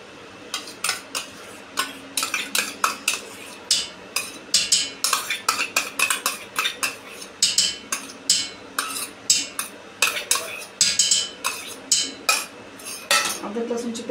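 Whisked yogurt goes into a pan and is stirred with a metal spoon, giving a steady run of close, sharp scraping and clinking against the pan with no voice.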